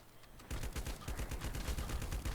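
Rapid automatic gunfire in the mobile survival game LifeAfter while shooting zombies, a dense rattling burst of shots starting suddenly and continuing in quick repeated bursts.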